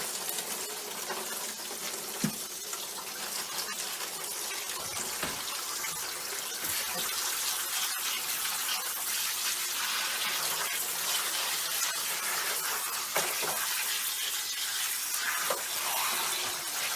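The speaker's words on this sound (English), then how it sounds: "We need to rinse the chilies under cold water to get off all the dirt" Dried chilies rinsed under cold running water from a kitchen tap, a steady close hiss of flowing water with faint splashes and small knocks throughout, no talk.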